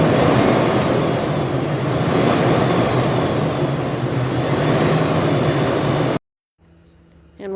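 A 2013 Toyota 4Runner engine held at about 2,000 rpm, a loud, steady broadband roar running for about six seconds before cutting off abruptly into near silence, with a faint sound returning at the end.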